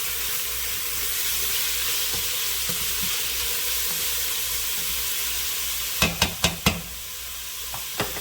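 Onions sizzle steadily in a hot pan, a constant close frying hiss with no talk, broken near the end by a few sharp clinks of a utensil against the pan.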